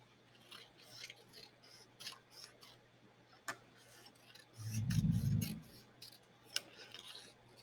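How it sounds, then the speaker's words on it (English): Scissors snip through strips of black fabric in a series of quiet, crisp cuts spread irregularly across the clip, close by, with a brief low rumble partway through. "So I'm going to cut this one right down the middle."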